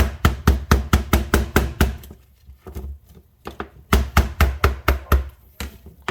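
Lemongrass stalks are bruised with firm, rapid blows on a cutting board while cooking Tom Yum Goong, loud sharp thuds in two fast bursts of about eight strikes each, separated by a brief pause with a few lighter knocks.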